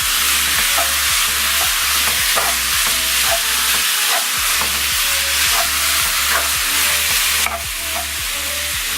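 Lamb searing and browning in a hot pan, a loud constant sizzle cut by regular scraping strokes as the meat is stirred and turned, close up with no voices.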